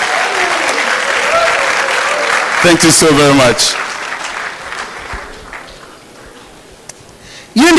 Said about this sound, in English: please give Madam President a round of applause